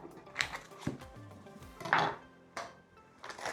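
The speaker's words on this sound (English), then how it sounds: "I'm just gonna put our pan on and get some butter going on it." A pan set down on a stove with butter, a handful of quiet separate clanks, knocks and scrapes of metal and utensils spaced out over a few seconds.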